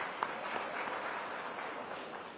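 An indoor award ceremony audience applauds to welcome winners, a steady, fairly distant wash of clapping from a crowd with no speech over it.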